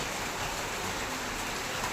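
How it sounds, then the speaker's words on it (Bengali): Rain falls in a steady, even hiss that holds without a break for the whole stretch, with no voices over it. "এই দেখুন বৃষ্টি দিয়ে দিয়েছে, এই 9:50 হবে তখন থেকে নেমেছে বৃষ্টিটা"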